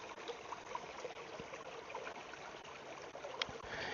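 Water trickles steadily out of the pour ports of a 4-liter filter bottle, a faint continuous running and splashing with no voices.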